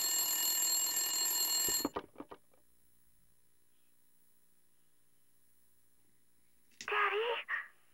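Telephone ringing in Silent Hill: a harsh electronic ring sounds for about two seconds and cuts off, then after near silence a short, bright ringing burst returns briefly.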